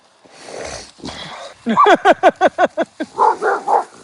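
A dog barks in a quick series of sharp, close barks, following a few softer sounds, then ends with lower, longer woofs.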